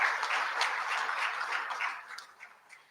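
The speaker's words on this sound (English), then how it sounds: "I think we should give a round of applause for that" An audience at a public event applauding, a short burst of dense clapping that thins and fades out after about two seconds.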